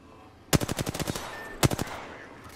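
Automatic gunfire in the video game Apex Legends, two sharp bursts of rapid shots, the first about eight rounds and the second a shorter three-round burst, loud and close.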